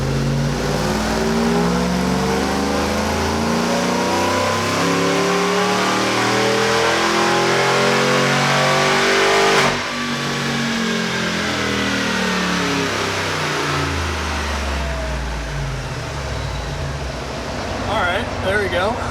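A supercharged GMC Sierra 1500 fitted with an Edelbrock 2650 blower revs hard on a dyno, its engine note climbing steadily, dropping briefly at a shift, then rising again loud and close.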